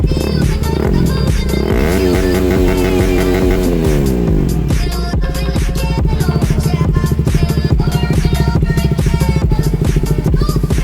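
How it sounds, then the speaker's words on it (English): Loud, close revving from a KTM Duke 200 motorcycle fitted with an Akrapovic exhaust muffler and big resonator: a throaty rise and fall in pitch, then a rapid, popping, burbling idle with crisp staccato pulses. "Akrapovic exhaust muffler with big resonator."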